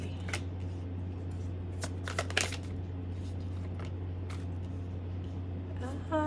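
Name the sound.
shuffling and drawing tarot cards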